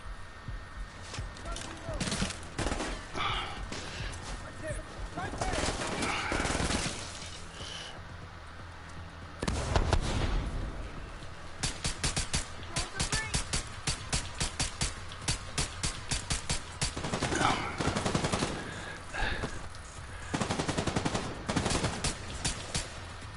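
Pistol fire in a PS4 shooter game, sharp repeated shots in rapid clusters across the clip over background game noise, with talking at times.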